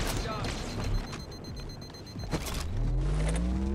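A grenade blast in Halo 2 Anniversary, with rumbling booms and low vehicle-like drones in a busy game mix, while a voice talks over it.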